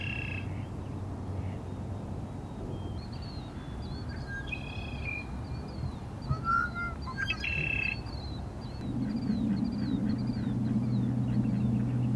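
A red-winged blackbird's calls and whistled song phrases ring out over a steady low rumble, with croaking frog-like calls in the background; the outdoor ambience continues throughout.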